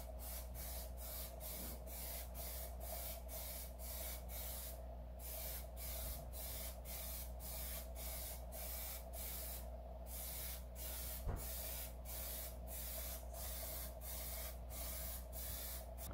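Short, even bursts of Plasti Dip clear coat spray onto glass, repeated rhythmically with a couple of brief gaps, faint against a steady low hum.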